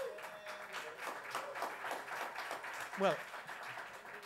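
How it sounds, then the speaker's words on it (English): An audience at a forum talk on internet politics claps steadily throughout, a dense patter of applause with a voice speaking over it. "you're clapping yourself for yourself"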